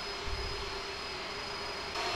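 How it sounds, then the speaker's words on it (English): Airliner landing in Microsoft Flight Simulator: a steady, even engine and wind drone with a faint high whine, continuous and moderately loud throughout, with no voices. "we slowly bring the plane down, and then we land it smoothly"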